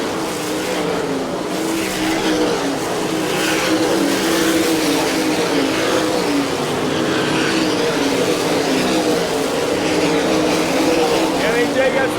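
Sprint cars of the All Star Circuit of Champions roar steadily through lap traffic at I-96 Speedway in Lake Odessa, Michigan, a dense, continuous engine din with revving passes throughout, under a commentator's voice.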